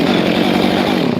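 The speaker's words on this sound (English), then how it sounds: "I don't like turning my chainsaw off hot like that," A chainsaw runs outdoors in a New Zealand winter setting, a loud, close, steady engine drone with no pause, heard alone.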